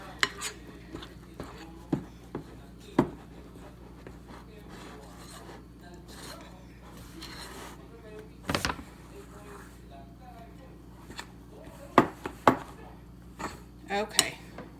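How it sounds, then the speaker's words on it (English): Bread dough mixed by hand in a bowl, soft rubbing and squishing with occasional knocks and clinks against the bowl, close and fairly quiet. "I just try to mix it enough to where there's not a lot of dry ingredient left"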